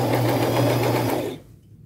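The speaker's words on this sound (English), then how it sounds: "go forward, back stitch," A sewing machine set to a low stitch length runs forward and back-stitches on thin lace fabric, a steady close mechanical whir for over a second before stopping into quiet.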